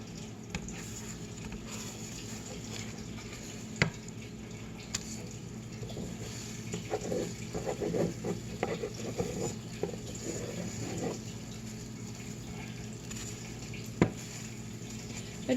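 Egg frying sunny side up in a small pan during a classroom demonstration, a soft steady sizzle with faint patter and occasional clicks, louder bubbling in the middle stretch, no talking.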